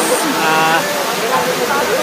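Bolinao Falls in Pangasinan, Philippines, sends up a loud, steady hiss of rushing water, heard close. A person talks over the constant roar throughout.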